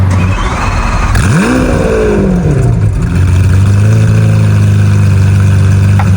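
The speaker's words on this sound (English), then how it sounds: "We're gonna listen to that idle for a second, then we'll give revs in just a second." A Lamborghini Aventador LP-700 engine idles loudly and steadily, with a brief rise and dip in pitch before settling back into a low, even rumble.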